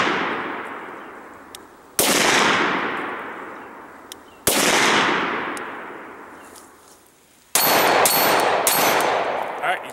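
Three loud, close .357 SIG gunshots from a Glock 22 loaded with 125-grain Speer Gold Dot hollow points and fired into ballistics gel. Each crack rings out and decays slowly over about two seconds before the next, and the last is followed by quick metallic clinks.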